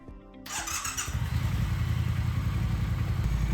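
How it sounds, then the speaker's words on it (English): A Triumph Modern Classic motorcycle engine cranks and catches, then settles into a loud, steady, rumbling idle close by. "Now fire up the bike and let it run for a while."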